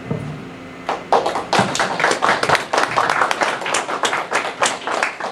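Audience applause welcomes a lecturer at a forum talk, a quiet start swelling into steady dense clapping from many hands, close and loud, continuing without voices.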